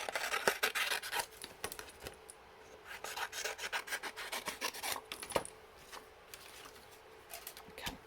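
Paper trimmer slicing stamped-card cardstock, producing quiet rasping, scraping strokes in short uneven bursts, close and soft.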